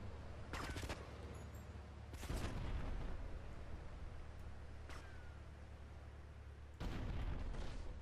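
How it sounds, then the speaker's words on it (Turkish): Explosions in the video game GTA Vice City: four heavy, booming bursts, spaced a couple of seconds apart, rise over a steady low rumble of in-game background noise. "Oo, patlamalar oluyor orada."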